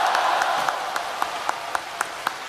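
Audience applause after a crosstalk performance in Wuhan, a short burst of crowd clapping that thins out into a few distinct, rhythmic individual claps.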